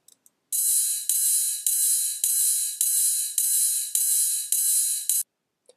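A ride cymbal sample in a moombahton drum track, struck eight times in an even, steady rhythm, each bright shimmering hit ringing until the next, playing alone.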